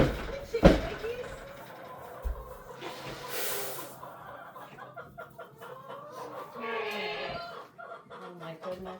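Chickens cluck and squawk softly around a farm during an ice storm, with a sharp clatter at the start, a hissing burst, and a person talking quietly among the birds.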